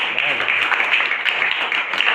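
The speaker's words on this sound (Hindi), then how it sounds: "इनके लिए एक बार ताली बजाइए आप।" A classroom audience claps for a student who has just answered correctly, a steady continuous patter of many hands filling the whole moment at moderate loudness.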